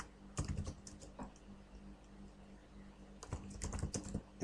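Quick bursts of keystrokes on a computer keyboard, two clustered runs of close clicky taps separated by a quieter pause, with no voice present.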